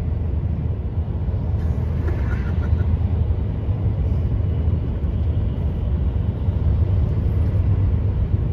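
A manual-transmission car drives along the roads near Gerede, heard from inside as a loud, steady low rumble of engine and road noise that runs without a break.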